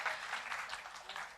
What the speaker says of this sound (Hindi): नारी शक्ति का जोरदार तालियों के साथ स्वागत कीजिए